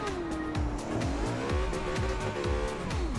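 A supercar in Forza Horizon 2 accelerates hard, its engine climbing steadily in pitch with a rhythmic pulsing and some tire squeal, loud and continuous from up close.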